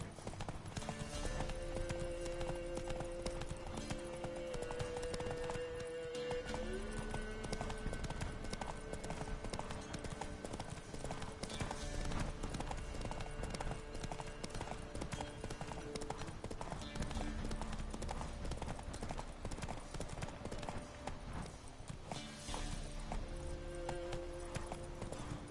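Roach the horse trotting in The Witcher 3, a steady clip-clop of hooves running throughout, close and fairly loud under sustained background music.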